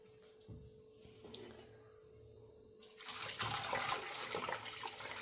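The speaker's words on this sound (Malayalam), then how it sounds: "ആവശ്യത്തിന് വെള്ളം ഒഴിച്ചു കൊടുക്കാം" Water pours into a cooking pot partway through, a steady rushing splash that swells up from a quiet kitchen background and keeps going to the end.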